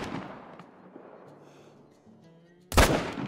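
A 30-06 double-barrel rifle fires in theHunter: Call of the Wild, one loud, sharp blast near the end that rings briefly after a quiet stretch.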